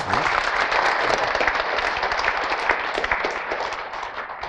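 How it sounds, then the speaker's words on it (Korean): An audience at a product presentation applauds themselves, a dense, steady roar of many hands clapping that carries evenly throughout. "여러분 스스로를 위해서 박수 한번 치도록 하겠습니다"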